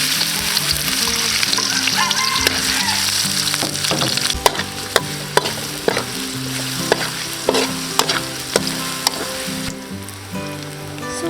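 Garlic, red onion and chili fry in hot soybean oil with a steady, dense sizzle close by, joined by a series of sharp stirring scrapes and clinks in the second half; no one speaks.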